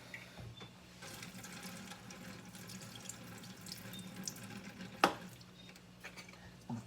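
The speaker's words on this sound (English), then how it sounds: "I'm going to drain these a little so I don't use all the canned waters in there" Liquid from a can of mixed vegetables pours out steadily as it is drained, a continuous watery splash over a sink with a brief louder clink near the end.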